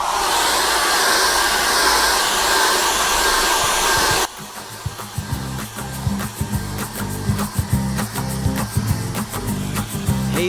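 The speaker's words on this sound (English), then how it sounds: "And once more we get the hairdryer on that." A hair dryer blows a steady, loud broadband rush over acrylic paint for about four seconds, then cuts off abruptly and is followed by quieter scattered clicks and handling noises.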